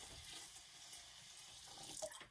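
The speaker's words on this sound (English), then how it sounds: "I am going to just pour this tea in here. So this is going to inoculate that biochar." Compost tea poured from a container into a bucket of biochar, a steady close splashing and trickling of liquid with a slight swell near the end, no voices.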